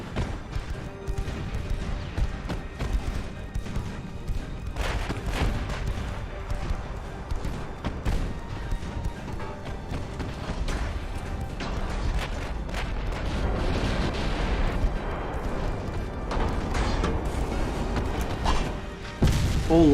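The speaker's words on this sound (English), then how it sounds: "I just realized this thing has 16 17-inch guns." Battleship 17-inch naval guns firing in the naval video game Ultimate Admiral, a dense, continuous barrage of deep booms and crashes rolling on without pause.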